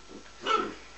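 A single short dog bark, fairly faint and slightly distant, sounds once over quiet room tone during an indoor unboxing.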